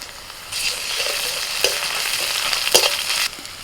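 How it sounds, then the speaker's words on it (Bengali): Fried onions with freshly added ginger-garlic paste sizzle in a pan, a loud steady crackle punctuated by a few sharp spatula scrapes and knocks near the end. "পেঁয়াজটা ভাজা হয়ে গেছে দিচ্ছি আদা রসুন বাটা"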